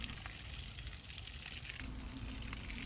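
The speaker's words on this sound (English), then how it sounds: "here the water is pumping out" Water gushing steadily out of a 100-foot hose fed by a Milwaukee M12 water transfer pump, a continuous loud rushing spray with no talk.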